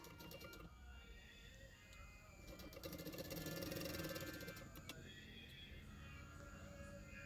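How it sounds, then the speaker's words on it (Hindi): An electric sewing machine stitching along the neckline of a blouse, a close fast mechanical whirr and rattle that swells in the middle and runs almost continuously, with no talk over it. "छोटा छोटा प्लेट डालते हुए नेक के किनारे किनारे पे सिलाई करते जा रही हूँ"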